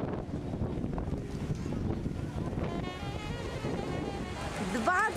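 Strong wind rumbles across the microphone on a seaside boulevard in Baku, with Caspian waves churning underneath and people's voices briefly audible in the background.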